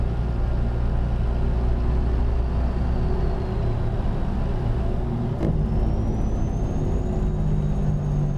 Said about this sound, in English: I also don't need to use my Jake brakes when I'm empty either, but I mean, they just sound good